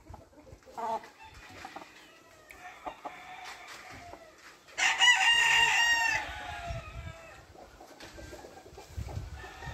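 A black rooster with yellow hackles gives one loud crow around the middle, with softer clucking and farmyard noise before and after.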